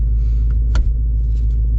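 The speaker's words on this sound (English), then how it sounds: "we are setting off here in the Shelby Signature Edition" Shelby Mustang Super Snake Signature Edition setting off, a heavy low engine rumble heard from inside the cabin with a single brief sharp click partway through.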